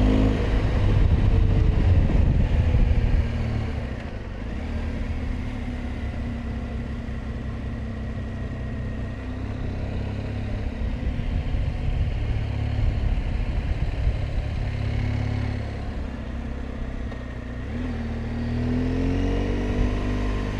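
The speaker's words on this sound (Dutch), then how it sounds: "Al die vogelaars die kijken al een beetje serieus naar het geluid van de motor volgens mij." A motorcycle engine drones steadily while riding on a round trip through Norway, loud and close throughout, a little fuller in the opening seconds and again near the end.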